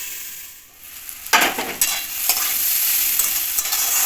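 Chopped vegetables with green chilli and peas sizzle in a hot pan for a vegetable chop filling, with a burst of stirring scrapes and crackles after a quieter start, then steady close frying hiss; no talking.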